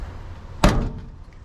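The door of a wrecked 1987 GMC Squarebody pickup, its cab damaged, gives a single sharp metallic clunk as it opens, close and fairly loud, followed by a short dull rattle that fades.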